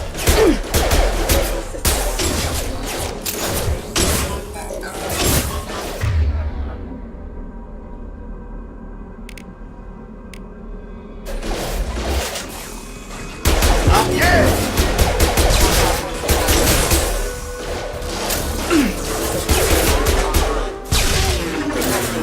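Heavy gunfire against mechs in Mass Effect 2, dense clattering volleys of shots and impacts in long bursts, broken by a quieter lull in the middle before the shooting resumes, loud and close.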